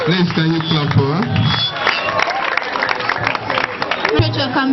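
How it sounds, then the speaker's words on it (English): An audience at a children's day celebration in Okujagu-ama, Port Harcourt, claps and murmurs as a crowd, the applause mixed under a voice speaking loudly through it. "can you clap for her?"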